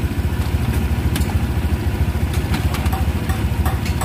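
A Honda Vario 150 motorcycle engine idles steadily close by, with a continuous low rumble and faint mechanical clatter throughout and no talking.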